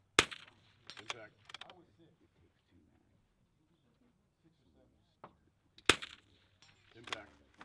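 Sharp cracks of a .22LR rimfire rifle at an outdoor match, each followed by a faint distant impact on a fruit-stand target; someone speaks quietly between shots.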